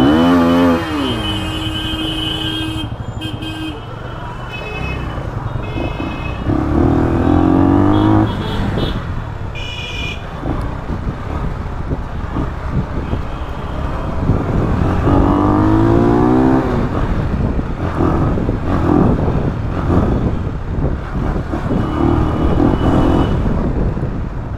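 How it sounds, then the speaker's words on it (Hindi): A motorcycle on stock exhaust revs and rides along, its engine note rising and falling in repeated throttle blips amid road and traffic noise, close and loud. "आप लोगों को तो पता है एग्जॉस्ट में इसका क्या नोट रहता है साउंड का"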